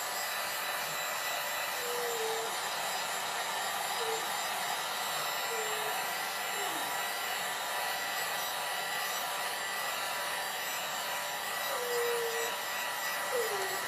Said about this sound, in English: Okay, let me blow dry this one.